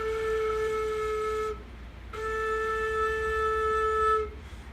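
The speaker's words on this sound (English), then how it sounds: "you're going to blow over the hole but into it a little bit, and you kind of get a sound like this." Flute head joint blown on its own, giving a steady pure whistling tone held twice, the first about one and a half seconds, then a short gap and a longer second tone, close and clear.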